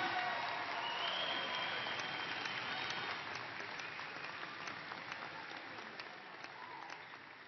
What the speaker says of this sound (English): Let's have one more round of applause and congratulations